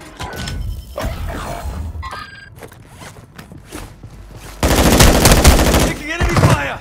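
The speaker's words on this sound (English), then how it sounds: "Taking enemy fire!" Enemy gunfire in the Warzone 2 video game: sharp scattered shots early on, then a loud, dense sustained burst of automatic fire in the last couple of seconds.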